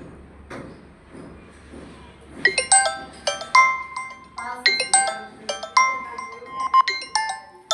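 A phone ringtone starts after a short quiet stretch and repeats its bright, melodic tones several times, fairly close and clear over faint background noise.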